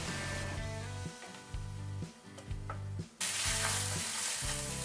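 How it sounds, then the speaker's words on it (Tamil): Apple pieces with a little water sizzle in a pan on the stove while being stirred in a regular rhythm, soft and close, with a louder burst of hissing near the end. "இப்போ இத வந்து ஒரு panல சேர்த்துட்டு நம்ம கொஞ்ச நேரம் வேக வச்சிரலாம்"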